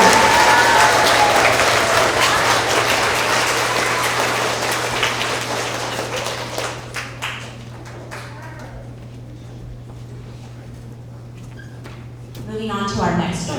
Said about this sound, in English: Let's give another round of applause for all of our 4th and 5th grade Tiger reporters.